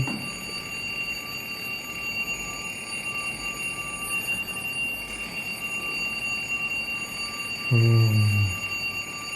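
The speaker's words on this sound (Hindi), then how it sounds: "मशीन अलार्म बंद करो इसे." A machine alarm beeps in a short burst of repeated pulsing tones near the end, over steady mechanical hum and background noise.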